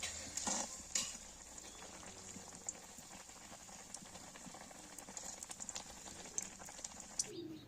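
Milk pua, a Bengali sweet, frying in hot oil gives a steady low crackle and sizzle with sharp pops, fairly faint and alone.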